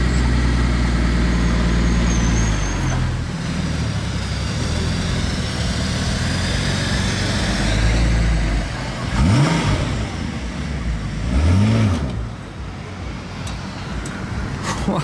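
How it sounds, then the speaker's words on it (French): A Lamborghini V12 settles into a deep idle, then gives two sharp revs near the end, loud and close on a street. "on a bien entendu que c'était un V12"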